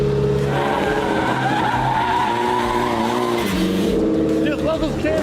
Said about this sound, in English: the car's not running right though. You can hear it. Like, yeah, it's bogging down.